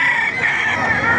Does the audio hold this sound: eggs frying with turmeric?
no